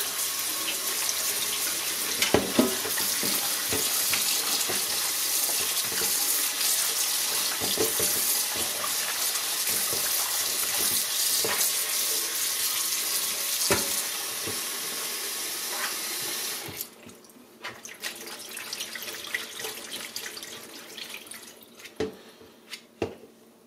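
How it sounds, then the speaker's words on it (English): Tap water runs steadily over salted northern pike fillets being rinsed in a sink, a continuous splashing wash with occasional drips and clatter, then the flow cuts off and leaves scattered faint handling sounds. "it's up to you whether you want to rinse it at this stage or not"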